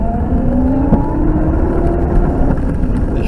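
A car drives steadily with a continuous engine hum and a slowly rising tone, the interior drone loud and even throughout, no voices.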